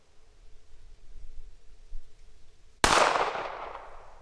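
A single sharp, loud .380 ACP pistol shot from Sergeant Major Munition ammunition, fired nearby at a range, with a quick crack that rings and decays over about a second after a quiet lead-in.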